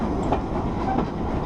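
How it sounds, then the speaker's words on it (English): A passenger train pulled by a steam engine rolls along the rails through the Purbeck countryside toward Corfe Castle, heard from aboard as a loud, continuous rumble with faint rhythmic clatter. "when the train went round a corner, I could see the steam engine that was pulling us along."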